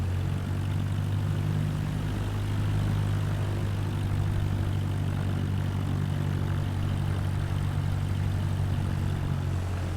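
A Cessna light aircraft's propeller engine running steadily during taxi, a constant low droning hum with a strong tonal buzz and airy wash, unbroken and fairly loud for the full stretch with no talk.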